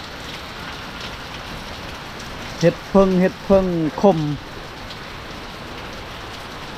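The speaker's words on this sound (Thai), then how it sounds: "ฝนตกกันหนักอีกพี่น้องเอ้ยมาเพิ่มตลอด" Heavy, steady rain falls in a continuous wash of hiss and patter, while a person speaks briefly and loudly over it near the middle.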